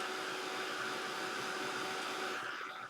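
A heat tool blows steadily and alone, drying layers of Distress Spritz on a craft tag, a continuous hot-air whir that holds even and close before easing slightly at the end.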